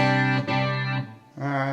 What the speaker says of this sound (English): That's the delay, I guess.